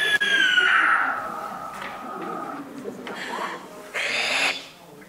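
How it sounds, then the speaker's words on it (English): A barn owl gives a harsh, raspy screech, one long drawn-out call followed by a couple of shorter rough bursts, fairly close and clear against a quiet background. "That's a barn owl."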